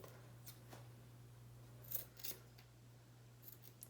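Scissors snipping excess band off a wig, a few faint, quick metallic snips spaced irregularly over a low steady hum, close but quiet.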